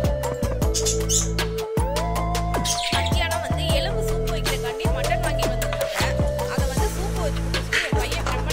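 Pet lovebirds chirp nearby in a rapid, continuous run of bright, repeated calls, loud and close, with no talking over them.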